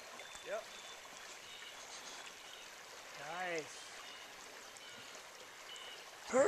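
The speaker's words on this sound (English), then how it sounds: "Down through the little rapids" Water runs through small rapids on the Horse River, a steady, fairly quiet rush under a boat trip, with brief voices breaking in now and then.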